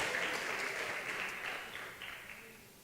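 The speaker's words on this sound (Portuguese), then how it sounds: "Você pode dar um aplauso" A church congregation applauds, a dense, steady patter of clapping from many hands that gradually fades toward the end, heard at a moderate distance with no speech over it.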